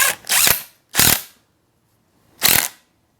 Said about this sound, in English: Let's tighten this.